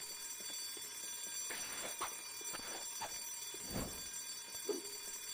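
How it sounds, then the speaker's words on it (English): An alarm sounds in the Silent Hill Downpour video game, a faint electronic tone repeating under scattered soft thuds and low rumbles, with no voice over it. "We tripped the alarm."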